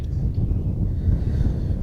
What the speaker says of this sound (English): Very, very windy afternoon here.